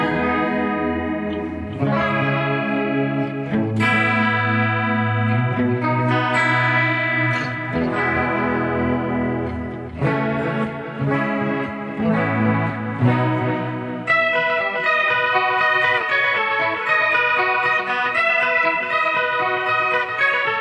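Electric guitar played continuously through an Emperor Chorus Vibrato effect, depth 68 and effect level 80, shimmering and wavering, chords and notes warbling in pitch throughout, no talking.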